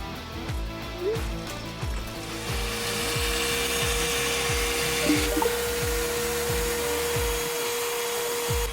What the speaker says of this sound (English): The vacuum cleaner handles all types of dry dirt.